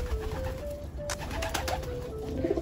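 Pigeons coo in a low, steady murmur close by. A short flutter and faint calls come through, with no talk.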